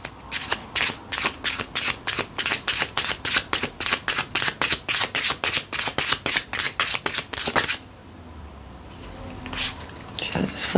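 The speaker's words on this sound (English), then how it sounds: "I'm going to give you a couple of seconds while I shuffle" Tarot cards are shuffled over and over in a quick, regular riffle rhythm, crisp and close, then the shuffling stops and faint handling noises follow.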